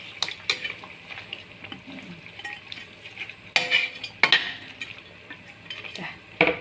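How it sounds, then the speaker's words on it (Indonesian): A fried fish head is stirred in a pan with sharp metal utensil scrapes and clanks over a soft background sizzle, heard close up and without speech. "Aduk dulu"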